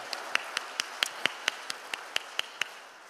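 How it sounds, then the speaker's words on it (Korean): Faint, rhythmic clapping at an even pace, about a dozen distinct claps, from the audience at a robot newspaper's tenth-anniversary celebration in Korea, over a low room hum. "박수 한번 치세요"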